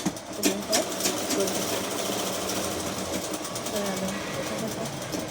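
A sewing machine stitches a border, whirring in a fast, even mechanical rhythm close by, with a few louder knocks at the start and a voice faintly underneath.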